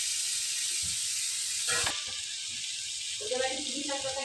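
Pieces of silver carp cooked as tandoori sizzle steadily in a pan with a bright, constant hiss, joined by a brief crackle midway and a voice speaking over the frying near the end.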